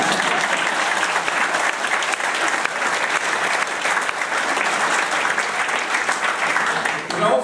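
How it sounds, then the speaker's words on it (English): Sustained audience applause fills the hall at Langholm Common Riding Cornets Night, a dense, steady clapping from a large crowd lasting throughout. "You can clap."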